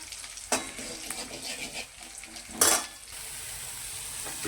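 Turmeric and red chilli powder sizzle in a little hot oil with curry leaves, a steady close crackle broken by two sharp scraping stirs.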